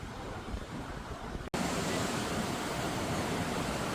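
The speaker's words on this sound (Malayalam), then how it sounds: "കടൽ കടൽ കടൽ ആർത്തിരമ്പുന്നു." Surf on Kodi beach at Palakkunnu, a steady broadband roar of waves that cuts out for an instant and returns louder and fuller, constant with no distinct individual breakers and no talk.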